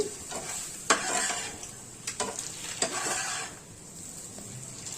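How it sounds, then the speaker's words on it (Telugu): Egg and capsicum fry with chili powder being stirred slowly in a pan, soft scraping strokes over a gentle sizzle, with a few sharper clinks of the spoon against the pan. "కలిపేటప్పుడు చాలా నిదానంగా కలుపుకోవాలి"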